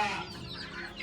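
Chickens cluck close by in a farm coop in Benin where a hen is raising 58 chicks, a short burst of soft, busy clucking.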